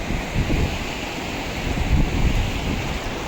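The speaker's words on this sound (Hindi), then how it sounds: "बहती हुई लहरें पत्थरों से टकरा रही हैं" River waves of the Ganga at Rishikesh crash against stones, a continuous loud rushing wash mixed with wind buffeting the microphone, with no talk over it.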